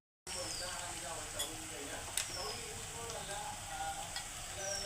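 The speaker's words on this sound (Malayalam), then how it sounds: "ഉള്ളിയും പച്ചമുളകൊക്കെ ഒന്ന് വാടണം." Onions and green chillies sautéing in a pan for a traditional Kerala lime pickle, a steady close sizzle and crackle with occasional sharper pops and faint scraping of a stirring spoon, continuous throughout.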